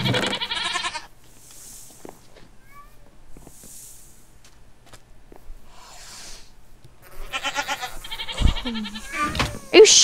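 Goats in the Minecraft video game bleat in several short, quavering calls with gaps between them, mixed with other faint game sounds.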